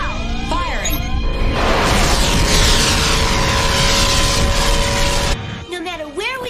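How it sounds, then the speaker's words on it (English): Robotech spaceship reflex engines firing in an animated series: a loud, sustained roaring rumble that swells over several seconds, with whooshing tones and synthetic effects at the start and end, partly overlapped by dialogue. "Prepare to fire reflex engines now."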